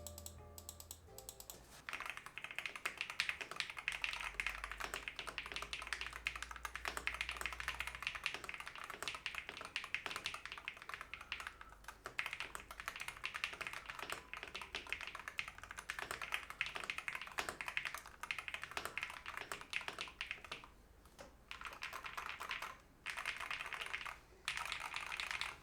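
Rapid clacky typing on a Sikakeyb HM80 mechanical gaming keyboard with an aluminum plate, steady and close, with crisp key presses and occasional brief pauses.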